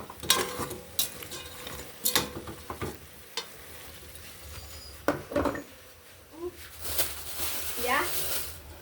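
A pot of pork sinigang soup is stirred, giving intermittent scraping and clinking bursts with a faint simmering sizzle underneath, while a person talks.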